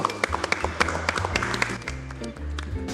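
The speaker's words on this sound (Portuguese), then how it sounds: "Vamos aplaudir de novo." Studio audience clapping on a Brazilian television talk show, a scattering of sharp claps over a low humming musical background, fairly close and moderately loud.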